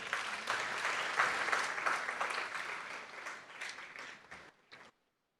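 An audience at an awards ceremony for clinical interns and cooperating teachers claps warmly, a dense round that gradually thins to a few last claps before stopping abruptly.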